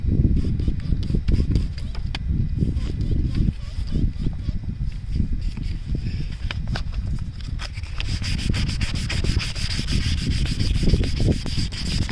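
Steady hand sanding with 1000 grit sandpaper on a lawn mower headlight lens, a continuous close rubbing scrape in quick back-and-forth strokes that carries on without pause, with no talking over it.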